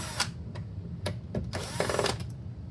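Phillips head screws being worked out of a Suzuki Jimny tweeter pod, with short ratcheting clicks and scraping taps of a screwdriver, close and intermittent.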